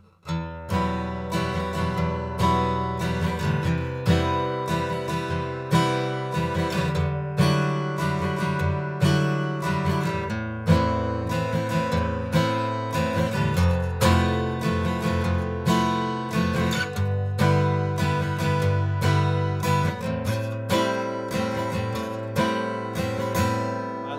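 Steady acoustic guitar strumming in a continuous down-up rhythm, cycling through chords for over twenty seconds, bright and close with no talking.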